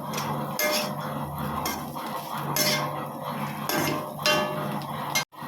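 A spoon stirs okra stir-fry with dried red chillies and curry leaves in a metal pan, making repeated scraping clinks and knocks against the pan, close and fairly loud, ending in a sharp tap.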